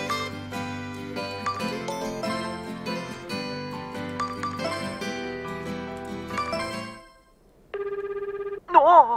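A phone rings in the Tokimeki Memorial GS4 video game, a short electronic ring tone that follows a stretch of in-game background music and a brief pause.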